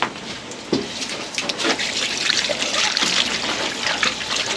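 Water runs steadily from a tap while an armadillo carcass is washed out during cleaning in Trinidad, a loud continuous splashing trickle with irregular spattering bursts, heard alone without talk.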